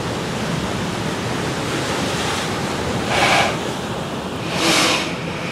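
Steady roar of ocean surf with two waves swelling and breaking, one around the middle and another near the end, with no voices.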